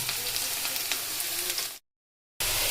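Ground ginger, garlic, dried red chilli and tomato paste sizzle loudly over fried onions in a pan for a dish of chicken, a steady close hiss that cuts off abruptly into silence before resuming briefly.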